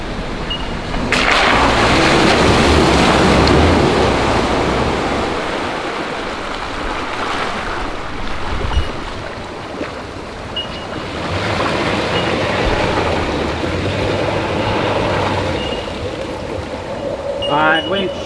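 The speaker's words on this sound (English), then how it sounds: "That SUZUKI just seems to like skim through these muddy sections," A 2020 Suzuki Jimny ploughing off-road through muddy puddles, loud sloshing and splashing surges of water and mud over engine rumble, coming in waves with a quieter lull midway; voices talk at times.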